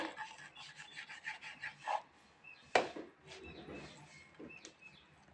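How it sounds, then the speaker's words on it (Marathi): A knife cuts through a crisp fried spinach pakoda, giving close, dry rasping scrapes followed by one sharp crunchy snap and a few fainter scratches. "मी आता तुम्हाला पकोडा कापून दाखवते"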